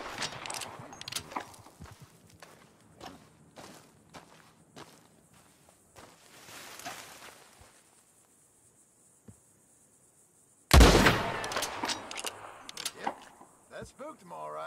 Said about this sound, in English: Put another shot in close.